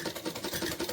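Electric sewing machine stitching steadily after being cleaned, a close, continuous fast whirring hum with rapid needle pulses and no talking.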